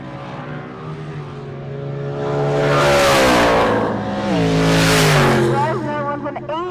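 A Ford Mustang Pro Street drag car at Pueblo Motorsports Park, its engine rising in pitch and loudness in two strong surges as it roars down the strip, loud and close, with the tone sweeping up and then falling back.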